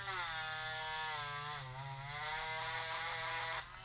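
A power drill bores through a toy with a steady, close, high-pitched whine that dips briefly under load partway through and cuts off near the end.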